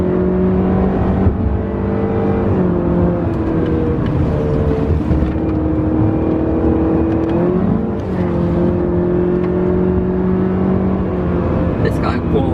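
2017 Honda Civic EXL driven hard through a corner with traction and stability control off: a steady mid-pitched engine drone with a faint whine that holds nearly level throughout, under continuous talk.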